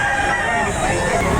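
A rooster at a weekend chicken market behind a mall in Lipa, Batangas crows amid a busy, noisy crowd with babble of people talking nearby.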